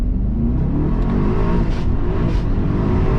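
A Mercedes-Maybach GLS 900 Brabus Rocket accelerates hard with the windows down, its engine roar rising steadily and loud throughout, heard from inside the cabin with no speech.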